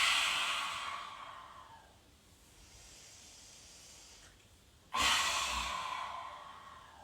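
Pranayama breathing drawn from the back of the throat during a seated yoga class: a long hissing breath fades out, a quieter held stretch follows, then another sharp, loud throaty breath begins, close and without talk.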